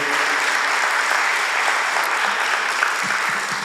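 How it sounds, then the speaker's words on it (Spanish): Steady applause fills a church as the congregation claps for the Lord, an even, sustained roar of hands at moderate volume with no talking over it. "Dale un aplauso al Señor."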